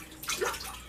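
Laundry being washed by hand in a tub of water, a brief splash and slosh as fabric is beaten and swirled, close and fairly loud, with no talk.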